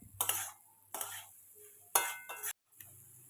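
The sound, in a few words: stirring fried potatoes and soya chunks into masala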